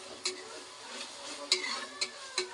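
Chicken biryani masala with tomato and onion being stirred in a pressure cooker pot, a soft steady scrape with a few louder spoon knocks against the metal and a faint sizzle underneath, close by.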